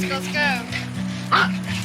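Several puppies yipping and whimpering close by in short excited bursts, with high, squeaky cries overlapping through the moment.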